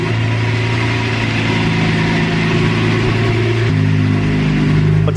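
Rebuilt manual Lamborghini Murcielago engine idling after its first start-up, with the exhaust pointing straight down: a smooth, loud, steady low hum with even harmonics and a slight shift in pitch near the end.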